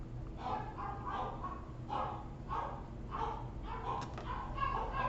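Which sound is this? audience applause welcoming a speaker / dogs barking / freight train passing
dogs barking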